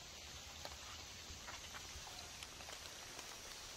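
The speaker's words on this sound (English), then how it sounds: "So I got set up just in time because the rain is hitting." Steady rain falls on a campsite in the hills of eastern Pennsylvania, a soft continuous patter with scattered drops tapping nearby surfaces, fairly faint and with no voices.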